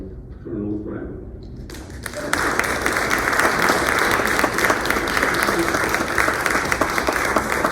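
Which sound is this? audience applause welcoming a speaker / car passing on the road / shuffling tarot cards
audience applause welcoming a speaker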